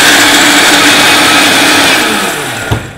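Food processor pulsing pecans and soaked almonds, a loud continuous whirring grind for nearly three seconds that winds down at the end with a brief knock.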